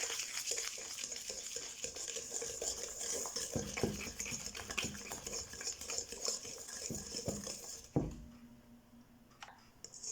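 A sugar mixture for walnut brownies is stirred over heat, a spoon scraping and knocking rhythmically against the pan under a faint sizzle. Near the end the stirring stops and the sound drops to a quieter hush.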